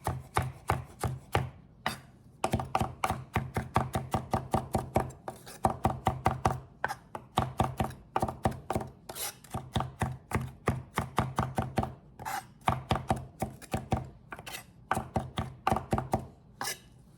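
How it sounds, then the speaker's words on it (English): Knife chopping fresh, tender-stemmed garden cilantro on a board, a long run of quick, sharp, evenly spaced taps, close and clear, with brief pauses between bursts and no talk. "I'm just going to chop all of it up and add it to it."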